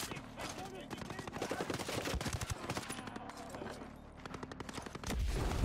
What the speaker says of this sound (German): Der schießt ungefragt auf mich.